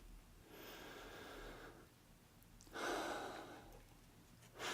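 Slow, deep breaths taken during a mindfulness exercise, two long airy inhales or exhales separated by a quiet pause, soft and close, with another breath just beginning at the end.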